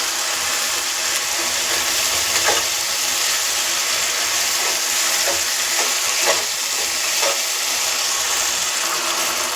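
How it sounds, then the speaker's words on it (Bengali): Masala paste and tomato sizzle steadily in hot oil as they are stir-fried for a fish dish, a continuous close frying hiss broken by a few soft scrapes and stirs of a spatula, with no talking. "মশলাটা ভালো করে কষিয়ে নেবো যতক্ষণ না তেল ছেড়ে দেবে।"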